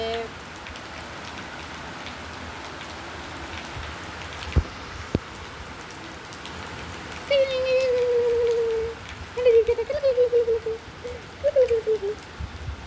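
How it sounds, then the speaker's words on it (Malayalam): Steady rain patters throughout, with a few sharp knocks and some tonal squeaks or calls rising above the downpour later on. "ഇവിടെ നല്ല മഴയുണ്ട്"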